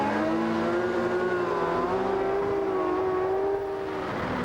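Racing sidecar engines roar at the Salzburgring during an FIM Sidecar World Championship round in 2006, a loud, steady, high-pitched whine holding close and constant throughout, with a slight drop near the end.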